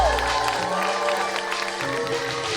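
A comedy show audience claps and cheers as a comedian is welcomed onto the stage, a dense steady wash of applause with whoops and a voice speaking over it.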